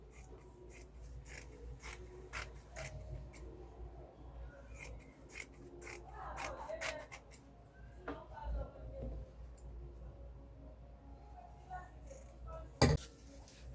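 Scissors slit through fabric for a shirt dress collar, a series of short close snips and rustling cuts at irregular intervals, with a sharper clack near the end.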